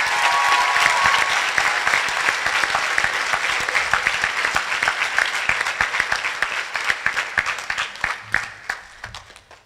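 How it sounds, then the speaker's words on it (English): Sustained audience applause at a church-hosted school chorus finale concert, dense and loud at first, then thinning out into scattered individual claps that fade over about ten seconds. "Let's give them a round of applause"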